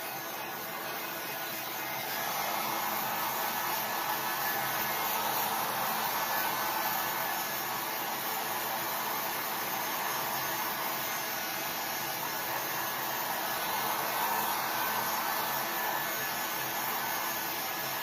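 Steady hair dryer blowing over a freshly painted white Dollar Tree surface, a continuous close whooshing hum that swells slightly in places and runs without pause or talk.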